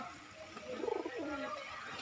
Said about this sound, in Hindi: आप देख सकते हो सारे कबूतर कलरफुल में है